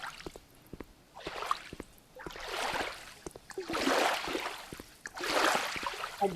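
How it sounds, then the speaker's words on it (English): Footsteps wade through shallow water in a video game, with four slow, splashing sloshes in an even rhythm over a wet, dripping background, moderately quiet and with no voices. "Is it my own footsteps in the water?"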